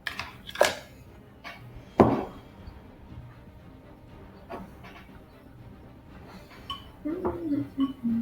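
A spoon stirs a thickening mixture in a bowl, giving a few sharp clinks spaced a couple of seconds apart over quiet scraping, with a voice murmuring near the end.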